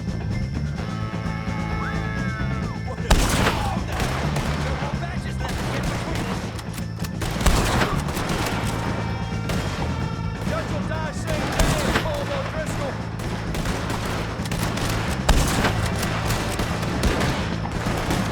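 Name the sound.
gunfire in the video game Red Dead Redemption 2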